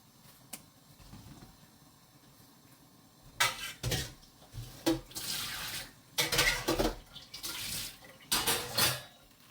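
A pot of steaming potatoes crackles and sizzles in irregular bursts as the last water boils off over low heat, with faint clinks between the louder hissing spurts.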